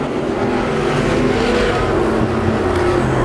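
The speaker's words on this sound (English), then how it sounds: "He'll bring his car to life off of turn number 4 with about a full straightaway advantage over the 8R of Rudolph and the 99 machine of Hector" IMCA Sport Mod race car engines roar at the Arizona Speedway during a heat race, a loud, steady, droning rumble of several cars at speed throughout.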